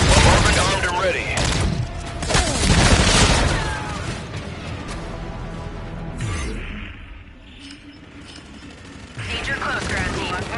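Bombardment strike explosions and rapid gunfire in the video game Infinite Warfare ring out as dense, loud bursts of automatic fire and heavy booms, easing briefly before rising again, with radio voices talking over the battle.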